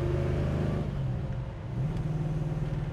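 A 1974 Plymouth Duster pulls hard under acceleration, its close engine note dipping briefly as it shifts into fourth gear around the middle, then climbing steadily again with a deep, continuous rumble.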